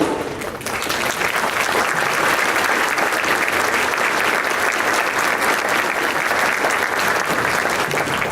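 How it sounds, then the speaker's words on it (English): Sustained applause from a crowd at a luncheon, dense and even clapping that continues steadily for several seconds without pause. "If you'll hold your applause to the end"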